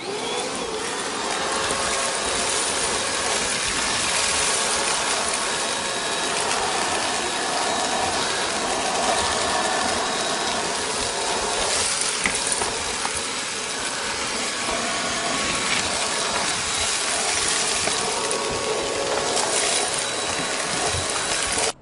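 A vacuum cleaner runs continuously with a loud, steady whine and hiss, its motor tone holding even from start to finish.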